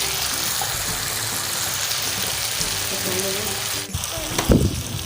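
A potato and egg pharji (aloo bhurji) mixture frying in a pan, with a steady broad sizzle throughout and a short burst of stirring and scraping near the end.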